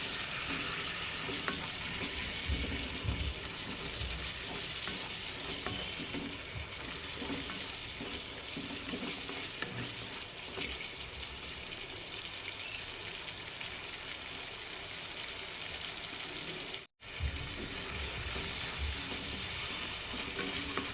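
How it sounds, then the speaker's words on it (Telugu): Turmeric and chili powder masala fries steadily in oil for an okra curry, a continuous dense sizzle with soft stirring scrapes throughout, briefly cutting out near the end. "హాఫ్ టేబుల్ స్పూన్ పసుపు కారాన్ని బట్టి one table spoon or two table spoon కారం కూడా వేసుకొని నూనె బాగా పైకి తేలేంత వరకు బాగా వేయించుకోవాలి"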